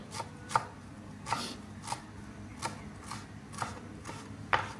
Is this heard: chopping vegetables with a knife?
yes